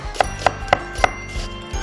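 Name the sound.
knife slicing onion into thin strips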